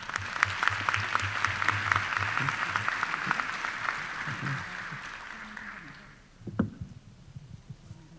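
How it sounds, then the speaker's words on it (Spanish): Audience applause for an archbishop at a diocesan synod assembly in Lima, a dense, steady clapping from a crowd that holds for about six seconds, then fades out with a few stray noises. "aplauso."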